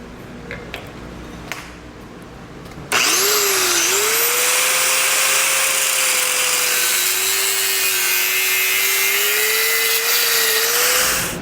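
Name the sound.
cutoff wheel cutting through thick metal S-hook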